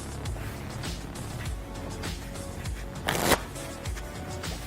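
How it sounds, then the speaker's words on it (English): A deck of playing cards being shuffled in a series of quick riffling bursts, with one louder, denser riffle near the end, close up and with no talking. "And then ask them to shuffle the cards."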